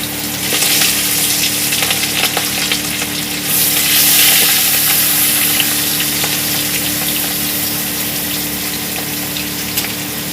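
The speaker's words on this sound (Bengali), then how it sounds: "মাছগুলো ভেজে নিয়েছি এইভাবে, এইভাবে মাছগুলোকে ভেজে নিয়েছি।" Several rohu fish pieces fry in hot oil in a wok, a loud, unbroken, crackling sizzle heard up close that swells slightly midway, with no voices over it.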